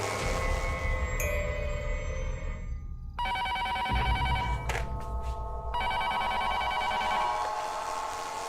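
Telephone bell ringing in repeated trilling bursts, loud and close, continuing steadily with brief gaps and nothing else heard.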